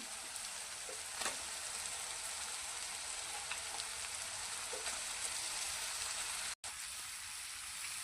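Steady, gentle sizzling of a potato and coriander mixture being stirred in a hot pan, a continuous bright frying hiss with faint scraping, close and unbroken apart from one brief cut, with no voices.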